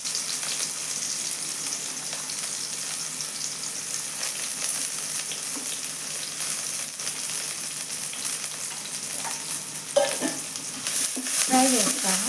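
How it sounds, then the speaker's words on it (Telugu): Chopped onion pieces fry in oil in a pan for munagaku pappu, a steady close crackling sizzle throughout, with a few stirring scrapes near the end. "ఉల్లిగడ్డ ముక్కలు కొంచెం ఫ్రై చేస్తానండి బాగా."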